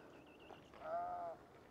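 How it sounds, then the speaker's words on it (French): A sheep bleats once outdoors near a rural old church in Norway, a single wavering call of about half a second, moderately close over light background noise and faint birdsong. "Ah, petit mouton."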